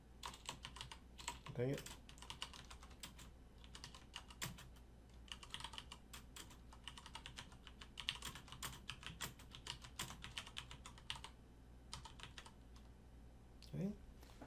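Someone types steadily on a computer keyboard, with dense, irregular clicking keystrokes in close quiet bursts and a voice speaking briefly.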